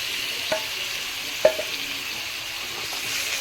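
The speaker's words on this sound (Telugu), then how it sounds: "ఇప్పుడైతే చికెన్ వేస్తున్నాం." Chicken fries in a pan with turmeric and onion-ginger paste, a steady close sizzle broken by a few sharp knocks as a spoon stirs it.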